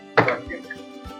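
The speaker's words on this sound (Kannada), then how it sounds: "ಸೊ ಈಗ ಒಂದ್ಸ ಉಂಡೆ ಆದಮೇಲೆ ಅದನ್ನ ತಟ್ಟಿ ಎಣ್ಣೆಗೆ ಹಾಕುವಂಥದ್ದು" Hands pat balls of Maddur vada dough flat at a street food stall, giving one soft, dull slap followed by a couple of fainter taps.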